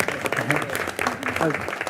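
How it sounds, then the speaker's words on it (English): A council chamber audience at a city planning commission meeting claps for students after their presentation, a steady dense patter of applause mixed with voices talking over it throughout. "We can applaud that,"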